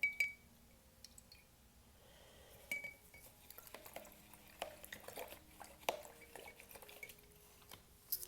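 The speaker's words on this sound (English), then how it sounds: "go ahead and wash out your brush" A paintbrush is rinsed in water during an acrylic painting session, giving faint, sparse clinks and small drips against a container, quiet and close with gaps between the taps.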